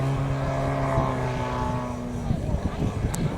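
A large 550cc engine on a model aeroplane at the Woodspring Wings model air show, a steady droning tone that rises in pitch and then breaks into rougher noise, heard alongside outdoor background sound.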